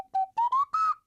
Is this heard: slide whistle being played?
yes